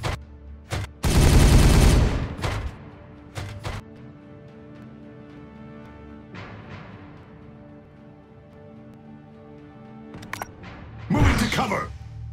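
Gunfire in the sci-fi strategy game Warhammer 40000: Regicide, with a loud burst of rapid shots near the start, a few sharp single cracks after, and another noisy burst near the end, with quieter gaps in between.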